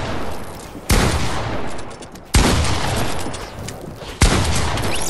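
Three loud, abrupt Fortnite gun blasts spaced about a second and a half apart, each trailing into a dense crackling decay that lingers until the next shot.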